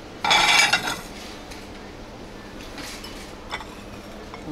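New Year tableware plates clink together in a Lenta store, one bright, brief burst of ceramic clattering near the start, then a few faint knocks over quiet shop ambience.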